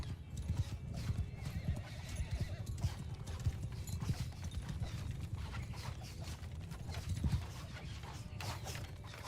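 Horse hooves clip-clop steadily from horse archers in the video game Bannerlord, mixed with neighs and whinnies over a dense battle din, with faint voices in the background.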